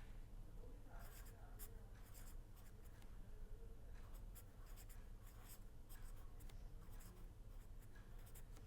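Chalk tapping and scraping on a blackboard during a lecture, a steady run of short strokes and clicks over a constant low room hum.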